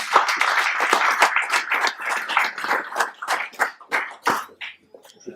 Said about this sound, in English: Once again, round of applause for this.